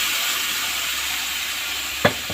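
Browned onions with salt and spice mix fry in oil in a pot for egg and potato dalna, giving a steady close sizzling hiss, broken near the end by a single knock of a stirring spoon.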